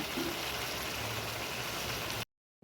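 Chicken braising in a pot on a clay stove, a dense steady bubbling sizzle close by and fairly loud for about two seconds before cutting to silence, no talk.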